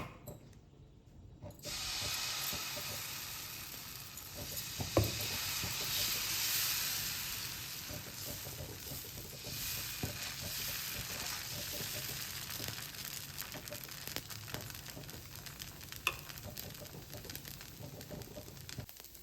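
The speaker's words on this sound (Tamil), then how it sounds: "தோசைக்கல் சூடாயிடுச்சு. நம்ம இப்போ தோசை ஊற்றிடலாம்." Toor dal dosa batter sizzles on a hot griddle as a steady, soft hiss that begins suddenly after a quiet start and then keeps going at an even level, with a few faint clicks and no talk.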